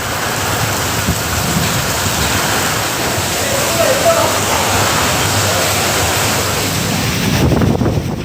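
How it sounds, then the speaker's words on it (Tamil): Heavy night rain pours steadily in Vellore, India, during a thunderstorm, a dense loud hiss with rumbling low thunder swelling throughout and a stronger surge near the end. "பகலில் வெயில் கொளுத்திய வேலூரில் இரவு இடி மின்னலுடன் பலத்த மழை."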